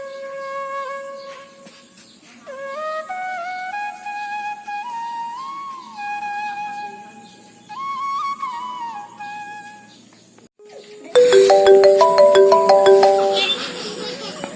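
A mobile phone ringtone plays a bright melodic tune over soft background tones, then swells into a loud, dense chiming burst near the end.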